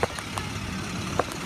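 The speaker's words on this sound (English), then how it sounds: "there's the bus in the background." A bus idles in the background outdoors at a youth event, a steady low engine rumble with faint clicks and knocks over it and no talk.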